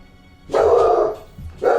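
A dog named Rocky barks in a room, two loud, close barks in quick succession, the second cut short, with faint background sound between them.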